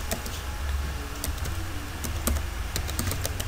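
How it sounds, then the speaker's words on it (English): Commands being typed on a computer keyboard while repairing a corrupted pen drive, a quick run of close, crisp key clicks with a few sharper taps, over a steady low hum. "So type clean and enter"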